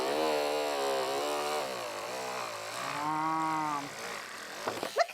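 A vibrating craft cutting machine feeding through craft card, a loud steady droning buzz with shifting pitch like a small motor, ending in a few quick clicks and knocks.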